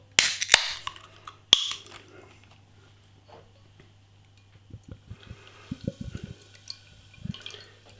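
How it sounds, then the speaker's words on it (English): A pint can of Bell Premium Lager opens with a sharp metallic crack and hiss, then beer glugs and trickles into a glass in short irregular splashes and drips, close and fairly quiet with pauses between. "light coloured lager being poured"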